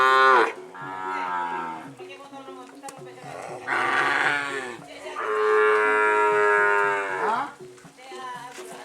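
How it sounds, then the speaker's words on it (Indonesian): Cattle kept as Sapudi racing bull breeding stock moo loudly in a series of long, drawn-out calls close by, with people talking over and between them. "Bibit sapi super ini."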